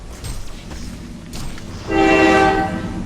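A train passes near a house, a distant rumble giving way in its final second to a loud, sustained horn blast.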